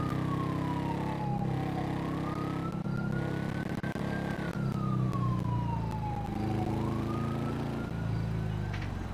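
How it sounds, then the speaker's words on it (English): Ambulance and fire engine sirens in the FiveM police roleplay game wail in long rising and falling sweeps over a steady vehicle engine rumble, loud and continuous throughout. "It's our ambulance and a engine there."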